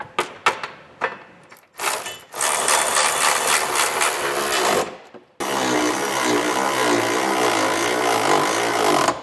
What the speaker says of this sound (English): Now I'm just going to tighten up all these bolts.